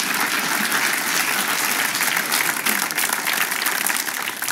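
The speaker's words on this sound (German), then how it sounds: "kommt ein Applaus für dich" Studio audience applause on a television talk show: steady, full clapping from a crowd that continues evenly throughout without letting up.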